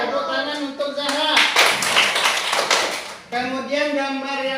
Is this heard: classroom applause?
yes